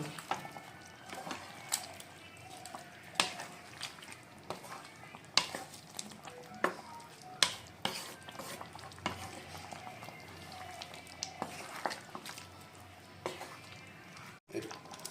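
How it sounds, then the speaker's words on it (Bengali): Chicken being stirred with garam masala in a pan, soft frying hiss under repeated scraping and clinking of a spoon against the pan, irregular stirring strokes up close. "গরম মশলাটা ভালো করে একবার মাংসের সাথে মিক্স করে নেব"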